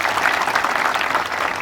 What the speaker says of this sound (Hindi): पहले महिलाओं के लिए जोरदार तालियां बजाइए।